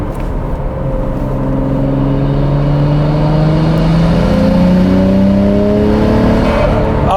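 A Nissan Skyline fitted with an APEXi power intake accelerates from inside the car, heard as a loud, steady engine drone. Its pitch climbs through the gears with a strong whooshing intake suction over it.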